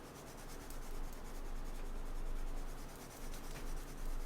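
Watercolor pencil colored onto paper with purple laid down first, a close, continuous scratchy rubbing in rhythmic back-and-forth strokes, quiet and alone.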